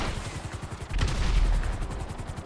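Missile launch and explosion in GTA Online during a Criminal Enterprises bunker mission: a sustained low roaring boom swells in the middle over steady pulsing gunfire-like background noise, loud and close.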